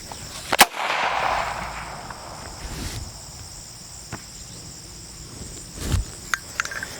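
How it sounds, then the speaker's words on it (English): A single training gunshot fired outdoors during duck dog work, one sharp crack early on, then quiet with insect buzz and a few faint pops and thumps later. "So there's a shot off"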